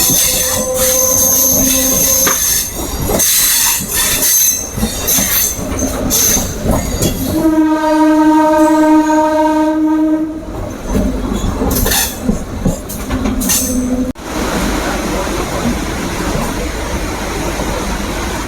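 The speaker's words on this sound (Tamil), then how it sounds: "பின்னாடி வந்திருக்கிற கோயம்புத்தூர்லேருந்து மதுரை போகிற இன்டர்சிட்டி எக்ஸ்பிரஸுங்க." A Coimbatore–Madurai Intercity Express passes a railway crossing, its wheels squealing loudly and repeatedly over rhythmic rail clatter and rumble, close by for the whole stretch.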